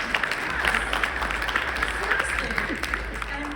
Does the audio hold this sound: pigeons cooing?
no